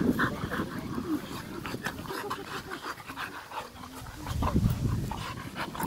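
Two American Staffordshire Terriers play together, panting rapidly and snuffling up close with scuffling movement, occasional small whimpers and a brief busier burst near the end.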